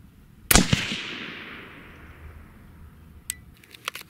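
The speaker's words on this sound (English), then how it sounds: "we're gonna go ahead and shoot the second group" A single sharp AR-15 rifle shot in .223 with Lapua brass cracks out loud and close, its report decaying over about a second, followed later by a few faint metallic clinks.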